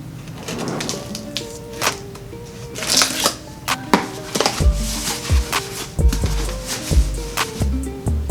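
A blade cuts open packaging around a Jordan 1 shoe box: a series of close, sharp scratching and tapping strokes with crinkly plastic or cardboard rustles, irregular in rhythm and growing busier toward the end.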